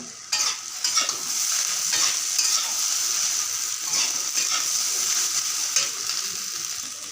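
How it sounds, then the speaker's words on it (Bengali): Pasta with salt is stirred in a hot pan, a steady sizzle broken by repeated scraping strokes of the spoon, close and moderately loud. "পরিমাণ মতো নুন দিয়ে দিলাম। এবারে ভালোভাবে নাড়াচাড়া করে নেব।"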